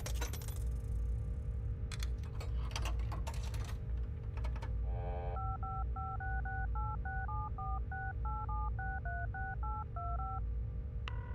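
Telephone keypad tones redial a call, a rapid run of distinct dual-tone beeps following some clicks and clatter, all over a constant low hum with no talking.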